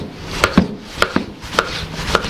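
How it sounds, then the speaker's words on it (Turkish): A knife chops lamb meat into small pieces on a cutting board, giving about eight sharp, close knocks in an uneven rhythm with no talk. "etlerimizi küçük küçük doğrayacağız"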